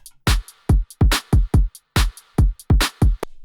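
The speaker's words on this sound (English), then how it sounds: "Kind of a simple trap beat." A simple trap beat made in FL Studio, with punchy booming kick drums and sharp snare hits in a sparse syncopated pattern, loud and dry with no voices.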